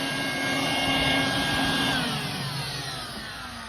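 A wet vacuum runs steadily and loud throughout, sucking up water draining from the condensate line of a central AC air handler in a garage, with a broad whooshing roar that swells and then eases slightly.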